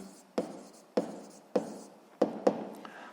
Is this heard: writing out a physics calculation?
yes